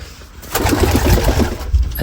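A pigeon calls from close by with a run of low, pulsing, throaty coos that sound steadily for about a second, over a soft background hum.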